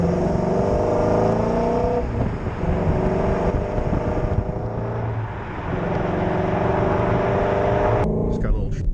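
A Shelby GT350 engine drones loudly from inside the car under acceleration, with a rising, layered engine note and wind noise, followed by a brief click near the end.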